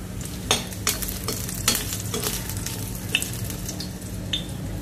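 Tamarind and garlic fry in a pan for a winged bean dish, a soft continuous sizzle broken by occasional stirring scrapes and clinks at close range, with no voices.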